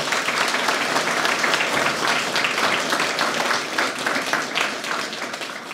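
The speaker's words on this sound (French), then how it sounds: "On peut les applaudir pour cette double performance" Audience applause for staff recently retired, at a municipal New Year's greetings ceremony in Cocumont; dense, steady clapping from a crowd that keeps going throughout and eases slightly toward the end.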